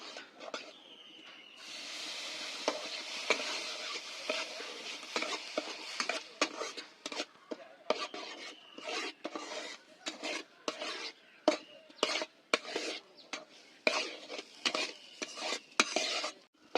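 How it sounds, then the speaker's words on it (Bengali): Fried semolina in ghee is stirred after creamy milk is poured in, a long run of rhythmic scraping strokes of a spoon against a pan over a soft bubbling sizzle, moderately close and quiet. "সুজিগুলো ভাজা হয়ে গেছে, মালাই সমেত দুধ দিয়ে দিচ্ছি"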